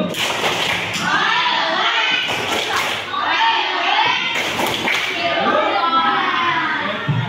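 A school class claps a rhythmic cheer in patterned bursts, sharp claps in groups with children's voices chanting along.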